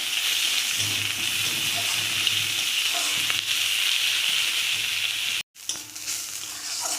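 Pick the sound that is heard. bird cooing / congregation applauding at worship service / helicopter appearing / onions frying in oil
onions frying in oil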